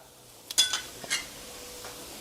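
Chili paste stirred with canned fish in a pan: a few quick scraping clinks of a utensil against the pan over a faint, steady background, with no voices.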